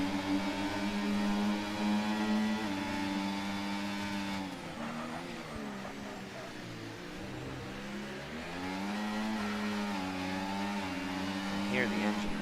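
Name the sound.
racing car engine revving in sim racing video game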